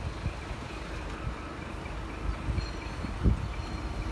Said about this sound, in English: here's a freight train from Wakefield to Felixstowe.